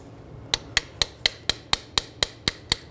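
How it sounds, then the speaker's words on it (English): Ten sharp, evenly spaced hammer taps on a rear suspension knuckle of a 2003-2008 Subaru Forester ring out in a steady rhythm, close and crisp, with nothing else in between. "I'm just going to give this a tap. Tap that down."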